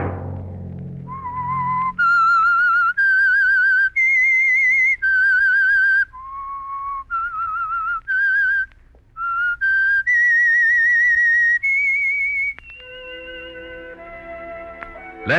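Someone whistles a clear, eerie theme tune for the radio program The Whistler, a sequence of sustained melodic notes with slight vibrato, close and alone, before music begins.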